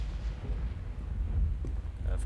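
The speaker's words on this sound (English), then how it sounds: "Of course, the lightning gets louder now." Thunder rolls in the PS4 game Gone Home, a continuous deep, booming rumble that swells and churns without pause.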